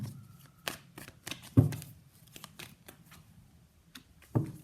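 Tarot cards are shuffled and pulled in a quiet room, giving close, irregular papery riffles, flicks and soft slaps, including a couple of sharper card snaps, with no speech.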